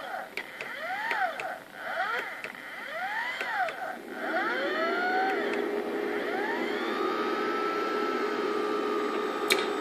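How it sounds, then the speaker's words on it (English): CD/DVD-ROM drive spindle motor driven by a microcontroller, whining with tones that sweep up and down as it speeds up and slows, then settling into a steady hum, faint and close. "One thing to note about this motor is it does run forward better than it does backwards."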